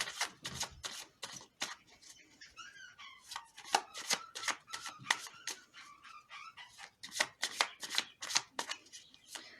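Tarot cards shuffled by hand during a reading, a quick run of crisp riffling flutters and soft slaps that repeat in bursts, close and fairly clear, with no talk over them.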